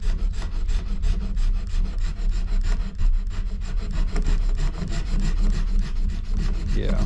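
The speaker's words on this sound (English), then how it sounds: "I'm gonna see if I can't use the edge here. Just scrape it. This scrapes off pretty easily." An edge scrapes an Osage orange wood bow stave in a loud, steady, rasping stroke after stroke, close up and continuous with no talk.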